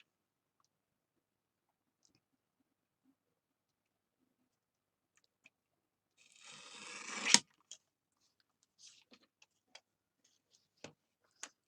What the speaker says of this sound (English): And I can see I'm going to have to trim this a little bit. Take in my little mini cutter here.